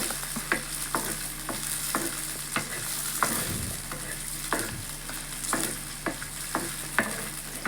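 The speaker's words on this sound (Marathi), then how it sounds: "दहा ते बारा पाकळ्या आणि आता तेल घालायचं असं मिक्स करून घ्यायचं" Garlic cloves and green chillies stirred in oil for a rustic Maharashtrian thecha, a steady close sizzle broken by regular spoon scrapes against the pan, with no talk over it.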